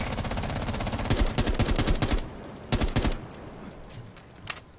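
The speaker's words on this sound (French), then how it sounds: "Je tire, j'essaye." Rapid automatic gunfire from the Rainbow Six Siege shooter, loud bursts of repeated shots in the first two seconds, then a shorter burst around the third second and a faint lone shot near the end.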